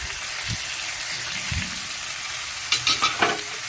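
Spices being sautéed with turmeric, onion, papaya and potato in a pan give a soft, steady sizzle, with a few sharper clatters of stirring near the end.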